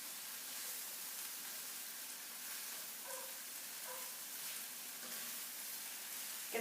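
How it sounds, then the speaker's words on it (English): Green beans and mushrooms with ginger and garlic sizzle steadily as they are stirred in a pan over high heat with a little oil, a constant, hissing frying noise heard up close, with faint scraping in the background. "I'm just going to mix these green beans in here."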